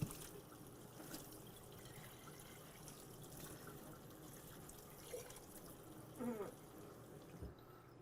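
Softened water runs gently from a tap through a water softener system, a faint, steady trickle heard alone with a few small clinks.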